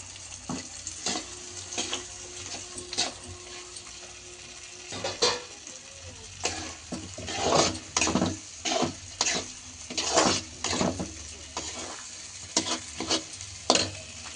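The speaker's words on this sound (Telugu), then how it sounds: "దీంట్లోకి ఇందాక ఫ్రై చేసుకున్న పన్నీరు, కాజు వేసుకోవాలి." Fried paneer and cashews are stirred in a hot pan, giving a soft continuous sizzle with repeated scraping strokes of a spatula that come in uneven bursts.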